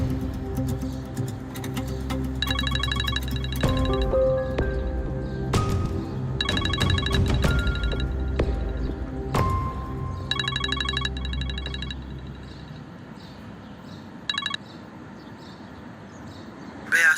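A telephone rings in repeated electronic trill bursts over a continuous rumbling background, loud and near, then the background falls quieter toward the end.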